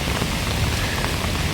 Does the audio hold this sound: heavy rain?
yes